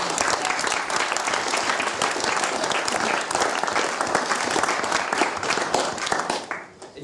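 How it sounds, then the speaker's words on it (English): Wedding guests applauding at a reception venue, a steady, dense burst of many hands clapping close and loud for several seconds, tapering off at the end. "I want to thank you, first of all, Jason, I want you all to give a round of applause to Jason"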